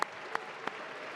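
Audience at a 40th anniversary benefit gala for Legal Outreach applauding, a steady wash of hand claps from a seated crowd, moderately quiet and continuous with a few sharper claps standing out.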